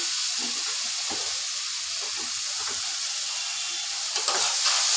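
Chili powder fries in hot oil in a pan for a shrimp and taro curry, giving a bright, continuous hiss and sizzle with soft stirring taps underneath and no speech.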